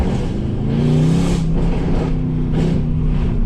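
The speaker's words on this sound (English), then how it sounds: "that BLURBLE you hear, the pops and bangs, it's completely natural" A straight-piped, catless, tuned Mercedes-AMG C63 S V8 revs up and settles, close by and continuous, with loud throaty exhaust burbling, pops and bangs throughout.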